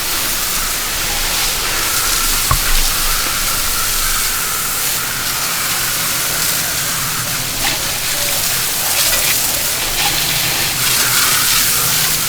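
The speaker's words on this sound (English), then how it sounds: "we're gonna get this rinsing going on and gonna dry the tire off afterwards" A steady, loud hiss of water spraying onto a car tire during a rinse, continuous and close with a wash of splashing and no speech.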